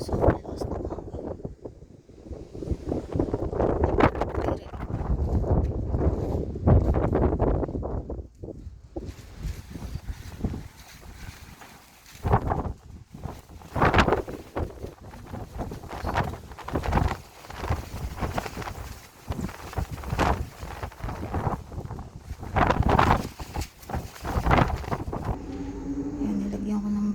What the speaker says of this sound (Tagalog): Ito yung sitwasyon ko sa lakas ng hangin.